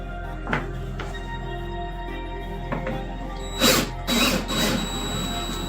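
A hand ratchet loosens the rear bolts on a vehicle, giving a few scattered short clicks early on and then several louder, closer bursts of rapid ratcheting near the end, with no talking.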